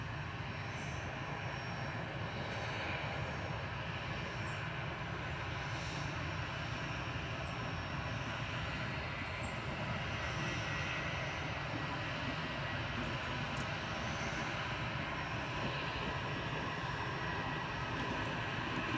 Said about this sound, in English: A320 touching down